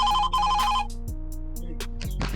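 A telephone rings in a rural village home, with two bright electronic ring bursts followed by a sustained tonal melody, loud and close with no talk.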